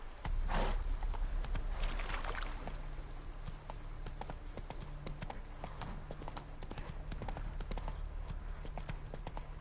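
A video game horse named Roach plods along a watery swamp path, its hooves clip-clopping in a steady walking rhythm, close and clear beneath a low ambient game hum.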